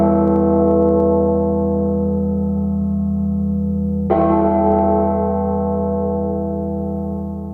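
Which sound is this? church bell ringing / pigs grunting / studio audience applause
church bell ringing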